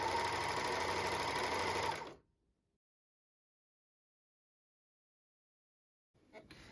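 A sewing machine or serger running off a thread chain, a fast steady mechanical whir for about two seconds that stops abruptly, then silence before a faint restart of motor noise.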